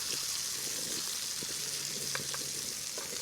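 Butter sizzles steadily in a hot pan with lake trout on low heat, with a constant frying hiss and a few soft clinks of a metal spoon.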